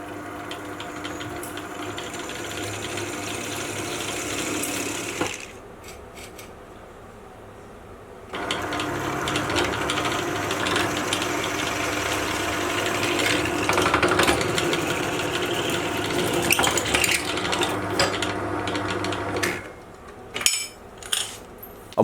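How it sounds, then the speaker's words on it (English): A drill press boring holes in a machine-shop setting for a milling-machine spindle lock, a steady motor whine with two cutting passes split by a brief quieter pause and a few sharp clicks near the end. "I'm instead going to crack out the drill press and use it to do all the drilling"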